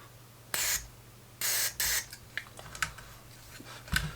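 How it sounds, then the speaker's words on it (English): Contact cleaner sprayed into the potentiometer controls of a Heathkit IT-12 signal tracer: three short hissing bursts, followed by small clicks and rubbing as the controls are turned, close and alone. "I'm just going to give all the controls a little bit of a squirt and a move round."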